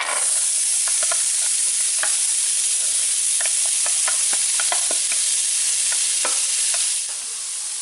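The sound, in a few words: vegetables sauteing in bacon grease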